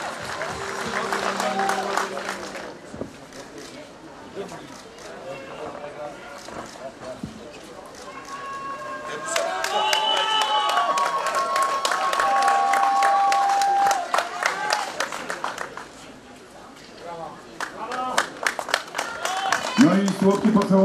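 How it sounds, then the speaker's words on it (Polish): Audience at a fight night event clapping and cheering in waves, crowd applause swelling and fading over a long stretch while an announcer talks over it and music plays. "Brawa, brawa, drodzy państwo, wielkie brawa."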